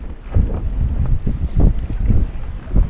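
Gusty wind batters the microphone aboard a small fishing boat out on rough, wavy water, producing a continuous loud low rumble with surging buffets and no talking.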